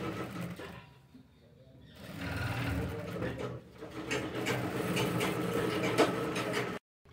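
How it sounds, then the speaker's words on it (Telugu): Sewing machine stitching along the edge of a patch on a blouse back neck, its fast mechanical whir running steadily and loud with brief pauses, close by, then cutting off near the end. "ఇలా మనం ఎర్జుకి కుట్టి వేసుకోవాలి ఇలా చక్కగా."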